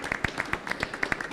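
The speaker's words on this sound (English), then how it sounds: "People can clap if they want." At a U.S. clean energy and climate action event, a few steady, evenly spaced claps ring out in a quick rhythm, thin rather than a full audience applause.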